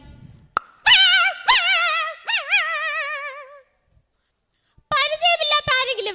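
A human voice mimics a dog yelping after being hit by a thrown stone: a quick run of high, wavering yelps and whines, then a short silence, then another close, loud burst of yelps.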